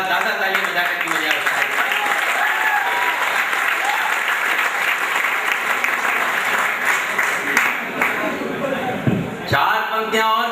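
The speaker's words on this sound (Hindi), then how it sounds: "एक बार ज्यादा ताली बजा करके" Audience clapping at a Hindi poetry recital in an auditorium: dense, loud, sustained applause from a large crowd filling the whole stretch, tapering slightly near the end.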